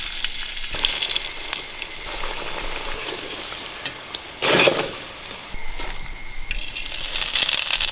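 Taro root fries in a pan for a home-style stir fry, a steady close hiss and crackle with a sharper burst of sizzling midway, no voices.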